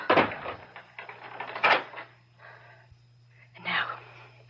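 A closet door is opened and closed in an old radio mystery drama, giving a few close creaks and knocks along with breathy gasps and rustling against a low steady hum.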